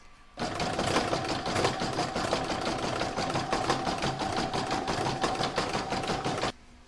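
Embroidery sewing machine running a decorative top stitch over a tatami edge in a hooped patchwork star, a steady rapid mechanical whirring and clatter that starts abruptly, holds for about six seconds, then stops.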